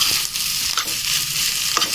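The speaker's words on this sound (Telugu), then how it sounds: "ఇప్పుడు ఈ ఆలు మసాలా కొత్తిమీర వీటన్నింటిని చక్కగా కలిపేసుకోవాలి" A spoon scrapes and stirs a thick potato masala with coriander in a pan, with soft sizzling underneath and a few sharper clinks.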